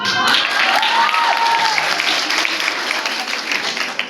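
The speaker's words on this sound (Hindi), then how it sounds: "एग्जाम की ताली बजा दीजिएगा" An audience at a street magic show claps together in a full, steady round of applause, with a faint whistle-like tone rising briefly near the start.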